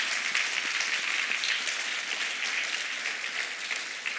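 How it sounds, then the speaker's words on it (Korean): A church congregation applauds its small-group leaders, a dense, steady wash of many hands clapping that fills the room for several seconds and fades slightly toward the end, with no talk over it. "우리 감사의 박수를 한번 보내주시면 좋겠습니다"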